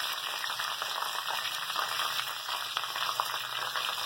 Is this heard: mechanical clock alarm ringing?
no